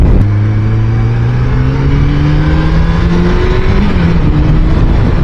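A 1990 Honda CBR1000F motorcycle engine pulls hard under acceleration, its rising whine climbing through the gears over loud, steady wind roar, close to the rider.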